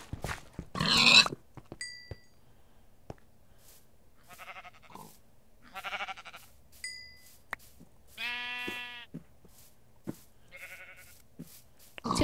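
Sheep bleats in Minecraft: several short, nasal harmonic calls spaced across a quiet stretch, mixed with other blocky game animal noises and soft clicks, fairly close and clear with no talking over them.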